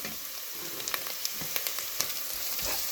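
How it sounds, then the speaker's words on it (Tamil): Onions sauté in a pan for village-style rabbit gravy, a continuous close hiss and crackle of frying with scattered sharp pops and light stirring taps. "நல்லா வதங்குது பாருங்கள், எப்படி வதங்குது பாருங்கள் வெங்காயம்."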